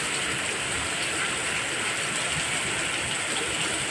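Torrential rain pours down in a steady, loud, unbroken hiss around a stranded vehicle, with no voices over the roar.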